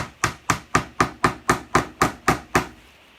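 Ten evenly spaced, sharp taps of a hammer driving small nails into a wooden canvas frame, each crisp strike ringing briefly before the next, ending in quiet.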